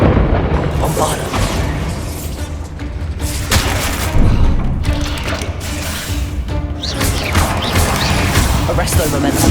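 Spell explosions boom in the Hogwarts Legacy video game as Bombarda blasts go off, loud, heavy bursts and crashes repeating over a rumbling, busy battle backdrop.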